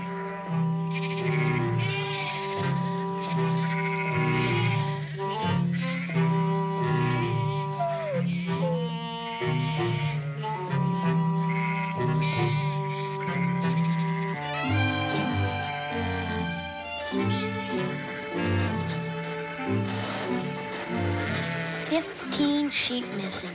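Sheep bleat again and again amid steady, tuneful background music, their wavering cries blending with the melody throughout.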